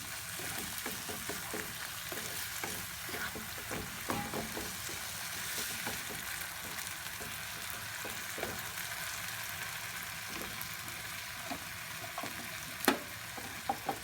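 Moong dal frying in a pan while being stirred, a faint continuous sizzle with light scraping strokes and an occasional small tap near the end, quiet and without speech.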